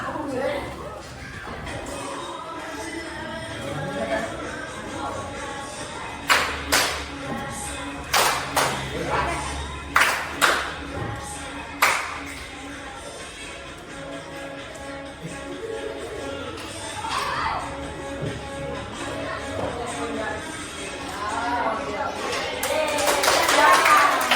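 A group of people claps hands along to a simple relaxation movement, with a run of about eight sharp, evenly spaced claps midway, set among talk and crowd chatter that swells toward the end.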